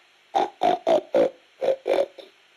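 Someone imitates a pig with a quick run of six or seven short, nasal oinks, close and fairly loud, with a faint final grunt.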